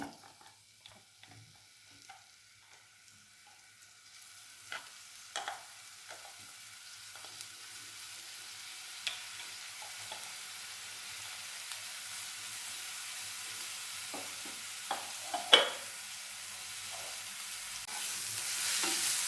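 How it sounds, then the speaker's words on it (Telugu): Ingredients frying in ghee in a pan for kattae pongal, a quiet continuous sizzle with scattered stirring clicks and scrapes that grows slightly louder toward the end, without any talking. "నేను మర్చిపోయాను కాబట్టి విడిగా వేయించుకుంటున్నాను"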